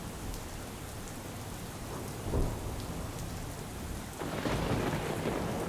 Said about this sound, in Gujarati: રાજકોટ શહેરના અનેક વિસ્તારોમાં ભારે પવન સાથે ધોધમાર વરસાદ પડતા